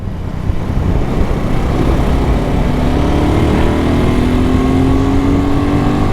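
A BSA Goldstar motorcycle is ridden on a wet road, its engine revving loud and close in a continuous drone whose pitch climbs steadily as it accelerates, over heavy wind rush.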